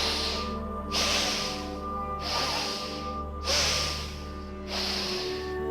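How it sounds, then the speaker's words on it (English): Bhastrika Pranayama bellows breathing: forceful, rhythmic nasal breaths pumping in and out, five or so strong hissing bursts in even succession, close and alone over a low background hum. "Begin Bhastrika Pranayama,"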